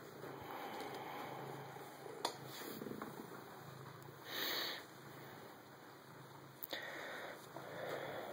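Soft, steady purring from a cat close by, with a few light sniffs and rustles, no voices.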